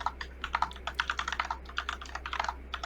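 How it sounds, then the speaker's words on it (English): Quick, light clicking of fingers typing on a computer keyboard, an irregular run of keystrokes heard alone and close over a low steady hum. "Clickety clack. Clickety clack."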